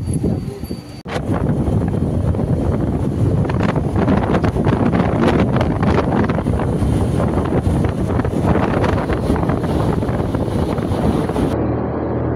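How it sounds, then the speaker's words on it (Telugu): Strong wind roars continuously into the microphone, a loud, buffeting rush that barely lets up; no voices are heard. Monsoon wind on a motorcycle ride toward Kanyakumari, strong enough to push the bike. "కన్యాకుమారి వెళ్ళేంత వరకు కూడా రూట్లో గాలి ఎక్కువ, బండి తోసేసేంత గాలి ఎక్కువ వేస్తున్నాయి"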